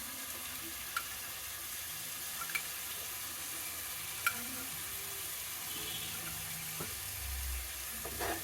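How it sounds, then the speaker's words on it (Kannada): Biryani masala fries with yogurt stirred in for an egg dum biryani, making a soft, steady, fairly faint hiss of sizzling with a few light clicks and taps from the pan. "ಮೊಸರು ಹಾಕೊಂಡು ಮತ್ತೆ ಫ್ರೈ ಮಾಡ್ಕೊಳ್ಳಿ."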